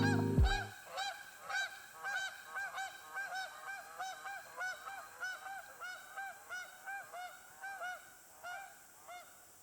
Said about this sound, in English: We were greatly rewarded by some noisy geese duking things out to find nesting spots